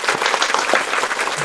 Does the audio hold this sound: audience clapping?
yes